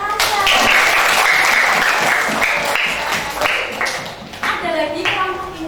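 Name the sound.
classroom applause, clapping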